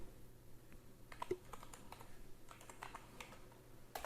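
Quiet, quick keystrokes on a computer keyboard as commands are typed on a Windows 11 PC, coming in irregular clusters of soft clicks with short pauses and no voices.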